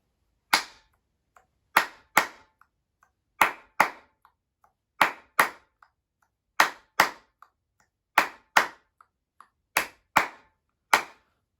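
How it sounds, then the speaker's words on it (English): A room of students claps in slow, steady pairs: sharp double claps repeat at even intervals with quiet gaps between, each burst crisp and close, no voices over them. "This side of the room, counting and clapping."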